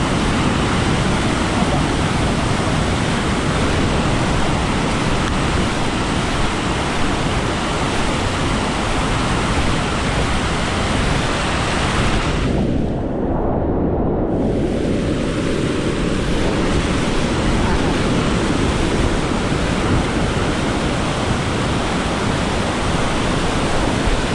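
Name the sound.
rushing flood water sweeping away a bridge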